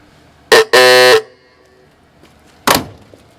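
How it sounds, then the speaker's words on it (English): An antique car's horn sounds in the garage with a short blast, a longer steady honk right after, then a final brief toot, loud and close with quiet gaps between. "the horn sounds pretty good now"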